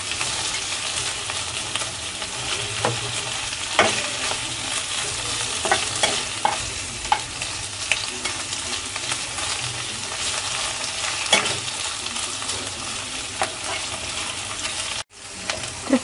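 Dried shutki fish frying in a pan with bean seeds, a continuous close sizzle with repeated scraping strokes of a stirring spoon against the pan, no talking.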